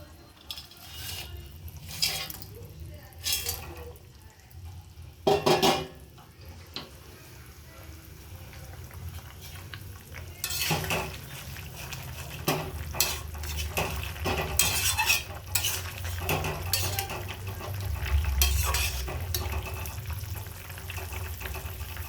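Fried raw-banana fritters being stirred into a bubbling potato curry in a pot, with clattering utensil strokes against metal and soft simmering underneath, close by and without speech.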